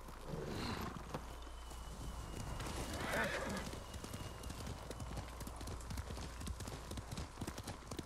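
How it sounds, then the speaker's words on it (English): A horse in the Ghost of Tsushima video game gallops with steady, rapid hoofbeats, joined by a brief neigh near the start and a louder snort or whinny around the middle, all fairly faint. "Horsey."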